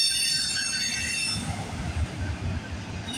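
A CPKC freight train rolls past at night on the Galt Subdivision near Guelph Line, a loud close rumble of wheels on rails with a high squeal fading in the first moments.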